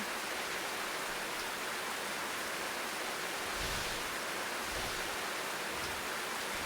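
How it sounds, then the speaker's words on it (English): Steady, even rain in the game Slow Damage hisses continuously at a moderate level, with no voices. "It started to rain."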